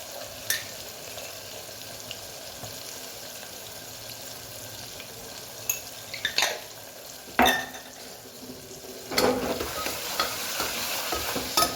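Food frying in a pan after salt is added, stirred with a few sharp utensil scrapes and clinks over a steady close sizzle.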